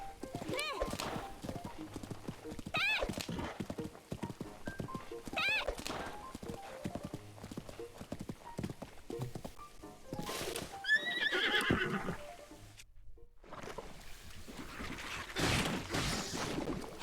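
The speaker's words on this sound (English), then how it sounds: "Oh! Did I hit you, horse?" A horse in the video game Zelda: Breath of the Wild neighs and whinnies repeatedly over a steady clip-clop of hooves, with game sounds and a person talking now and then.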